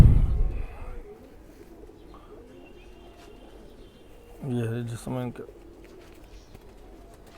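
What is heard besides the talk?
khaki pigeons cooing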